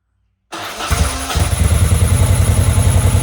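A 1990 Moto Guzzi California III starts up after a short silence, firing into a loud, steady, close idle with a rhythmic throbbing pulse and a brief clatter at the catch.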